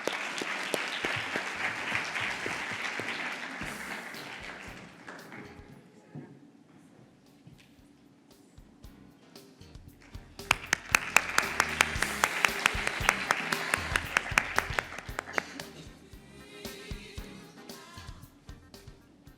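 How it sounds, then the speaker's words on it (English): Audience applause at the ICAN Dubai 2023 conference, two swells of clapping from a large crowd, loud and sustained, with a host speaking briefly between them. "A big round of applause."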